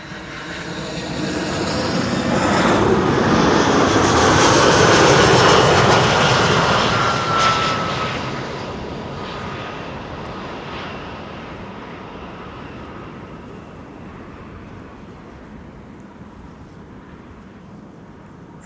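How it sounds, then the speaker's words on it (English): A passenger airplane arriving from Hamburg descends toward the secondary runway at Schiphol, its engine roar swelling loud and broad, peaking mid-pass, then slowly fading into a lingering distant rumble. "the last airplane arriving from Hamburg is now flying towards the secondary runway"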